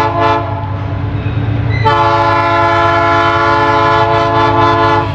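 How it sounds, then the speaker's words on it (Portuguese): A loaded freight train pulls in behind its locomotives, a long, loud, steady horn blast sounding over the deep rumble of the engines. "Chegando o trenzão aí,"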